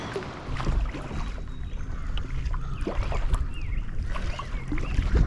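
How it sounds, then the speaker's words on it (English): A Delta 15.5 GT kayak is paddled with an Aquabound Whiskey carbon paddle, giving soft splashes and water swishes over breezy outdoor background noise, fairly quiet throughout. "what I've got with the kayak is the paddle I'm using. This is the Aquabound Whiskey carbon paddle."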